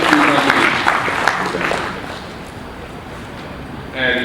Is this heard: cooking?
no